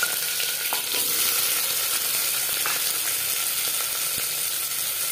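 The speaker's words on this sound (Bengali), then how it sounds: "এবার দিয়ে দেবো পেঁয়াজ কুচি" Chopped onions sizzle and fry steadily in hot mustard oil in a pan, a close, continuous crackling hiss with a few stir scrapes and no talk.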